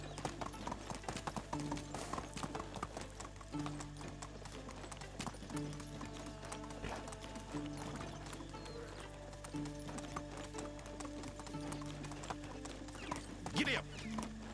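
A horse gallops in the medieval video game Medieval Dynasty, with rhythmic hoof clip-clops and a brief whinny, faint throughout, while a person talks over it.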